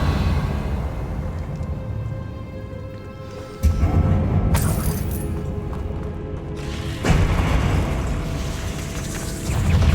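A Confringo blasting spell in a video game erupts with two booming explosions a few seconds apart, each a sudden heavy thump with a rumbling tail that fades into a steady low roar.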